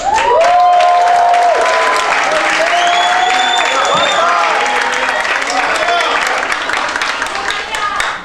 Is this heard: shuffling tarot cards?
no